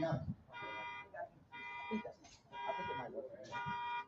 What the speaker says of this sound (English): Making my alarm go off, ruining the class.